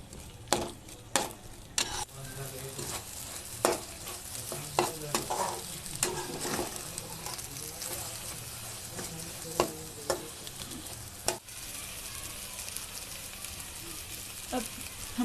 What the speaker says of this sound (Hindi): इसे अच्छे से मिक्स कीजिए। अच्छे से घुमाते जाइए।